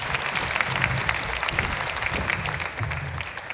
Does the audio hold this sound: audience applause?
yes